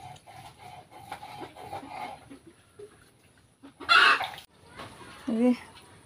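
A chicken clucks in short, irregular bursts beside a rural mud house, soft at first and then with a couple of louder, sharper calls close by.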